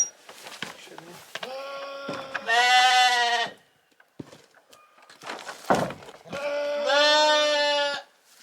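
Sheep bleating close by on a small farm with hay out, in two long, loud, wavering calls separated by quieter shuffling and handling noises.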